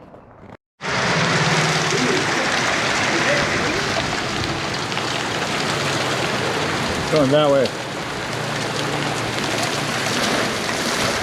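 Steady rain patters across a surface throughout, a dense continuous hiss, with a brief spoken phrase partway through.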